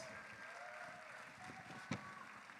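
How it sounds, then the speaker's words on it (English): An audience at the Mister International male pageant competition in Spain applauds in a steady, fairly distant wash of clapping that carries through the whole moment, with one brief sharper accent near the end. "Another round of applause for the Americas."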